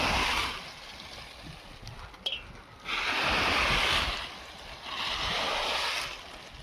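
Wind gusting outdoors on a peanut farm, a broad roaring rush that swells in two strong waves and then eases, with a brief clatter in between and no talk.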